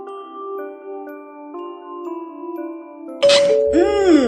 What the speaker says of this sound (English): tap the door of the house to ring the doorbell.